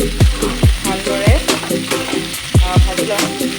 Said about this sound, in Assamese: ভাজি লওঁ অলপ।